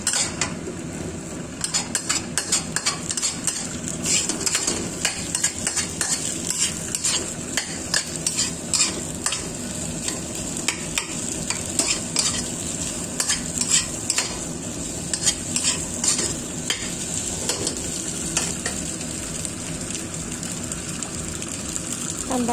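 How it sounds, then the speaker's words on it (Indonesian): Nasi goreng frying in a pan after egg has been added, stirred steadily with a utensil: continuous close sizzle with repeated scraping and clinking of metal against the pan throughout. "Aduk."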